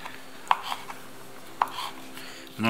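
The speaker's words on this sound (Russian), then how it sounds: "нарезать вот на такие вот дольки." A knife chopping smoked chicken leg meat into pieces on a board, two sharp distinct chops about a second apart with faint knocks between, then a louder clatter at the end.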